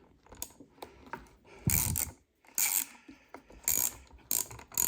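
Nuts being tightened on a Stihl KM55R kombi tree lopper during carburetor replacement: close, rapid ratcheting clicks and metallic mechanism rattles in several short bursts with brief pauses between.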